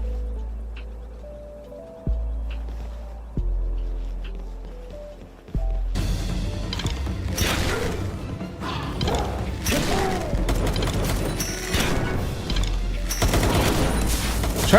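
Rapid gunfire and clattering mechanical bursts in Palworld, dense and loud after a quieter stretch of tonal game music with a few sharp thumps, continuing in repeated volleys and crashes.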